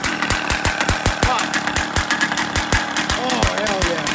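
Small 50cc gas engine of a Primal RC dragster fitted with a drag pipe, running loud and close with a rapid, choppy two-stroke crackle and rhythmic popping bursts, while voices talk over it.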